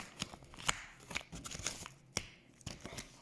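Paper and cardboard packaging of a Tiger JA002 fireworks set is torn and crinkled open by hand in a series of close, irregular rustling rips and crackles, fairly quiet with no talk.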